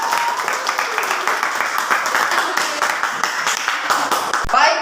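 Classroom applause for a student group's presentation in a civics (PPKn) lesson: many hands clapping in a dense, steady wash for nearly five seconds, close and fairly loud, fading out at the very end.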